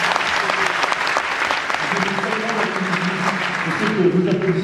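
An audience at a stage show applauds in a dense, continuous wash of clapping, loud and steady throughout, with a voice or murmur rising faintly underneath toward the end.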